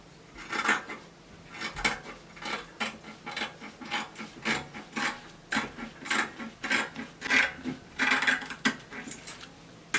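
Scissors cut fabric for a short yoke dress, a rhythmic series of crisp snips and rasping blade strokes, close and moderately loud, repeating about twice per second.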